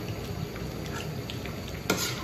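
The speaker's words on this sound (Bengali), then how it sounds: "আবার সবকিছু একটু মিশিয়ে দিব।" Food in a pan is stirred after ground cumin goes in, with soft scraping and gentle sizzling and one sharper clink near the end.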